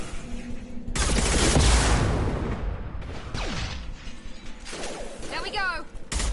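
Shotgun fire in a video game battle: heavy, loud blasts and rapid gunfire in a dense, chaotic barrage, with metallic mechanical clatter and whizzing effects close up throughout.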